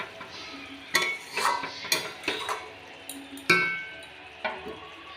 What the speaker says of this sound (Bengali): আমি এবার ঢাকনাটা তুলে নেব।